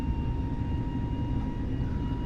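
An airliner's engines in Flight Simulator 2020 drone at reduced thrust before takeoff: a steady, loud low rumble with a faint thin whine above it, constant throughout.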